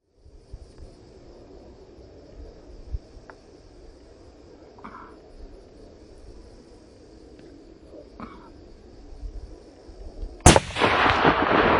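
A single loud rifle shot fired at a roebuck during a stalking hunt in the Landes, France, cracking sharply near the end of a quiet outdoor stretch with faint wind and distant birds, followed by ringing echo.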